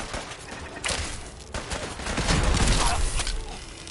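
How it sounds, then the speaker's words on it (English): Automated defensive turrets open fire in Fallout 4, a rapid, sustained burst of gunfire that swells and thickens over a few seconds, fairly loud and close with a dense, rattling texture. "My turrets are getting in on it."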